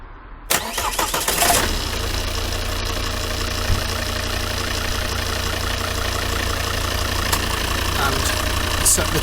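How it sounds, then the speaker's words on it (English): A car engine cranks briefly and catches, then settles into a steady, close idle that runs on without change. "Right, I'll go and start the engine."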